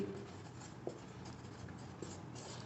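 Pen or pencil scratching across paper while writing notes for a Class 11 Hindi lesson on Kabir, a soft continuous scraping with a couple of faint taps, no voice.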